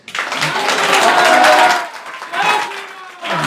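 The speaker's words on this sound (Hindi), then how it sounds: "मेरे एक बार गांव वालों के लिए तो आपस में ताली बजाओ यार" A village crowd claps together in a short burst of applause, loud and close, fading briefly before a second swell, with a voice speaking during it.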